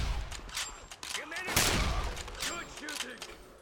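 Rapid, crackling gunfire bursts repeatedly in the video game Wolfenstein (2009), with several sharp shots over busy in-game noise and a voice talking alongside.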